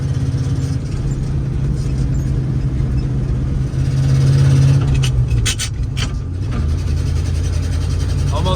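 A 1968 IH Fleetstar 2010 truck hauling a load of soybeans drones steadily from inside the cab, its engine pitch rising then dropping through a gear shift midway, with a few rattles and someone talking briefly.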